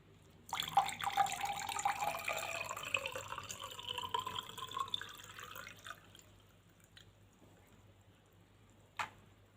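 Hibiscus and pomegranate drink strained through a sieve, a steady trickling pour running for several seconds before tapering off, then a single sharp click near the end.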